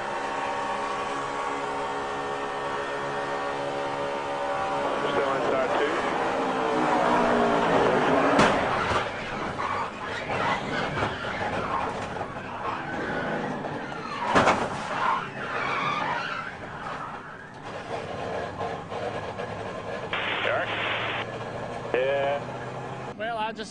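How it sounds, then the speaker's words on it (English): Stock cars slide and skid into a corner during the 2011 Budweiser Shootout, with engine roar, tyre skidding and sharp impact bangs, loud and continuous, with a voice over the racing noise. "A wild slide into the corner."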